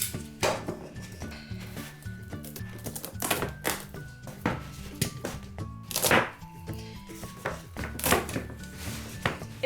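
A blade cutting through a cork sheet for a handmade tangram-style board, with close, irregular crisp cuts and taps on a hard surface repeating through the whole stretch, with no talking.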